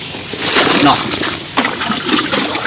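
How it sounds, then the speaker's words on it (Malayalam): Water is poured from a box into a tub of bran-based cattle feed, giving a few uneven splashes and liquid spatters with a brief sharp splash partway through. "അടുത്ത ബോക്സിൽ നിന്ന് വെള്ളം എടുത്ത് ഒഴിച്ചിട്ട്"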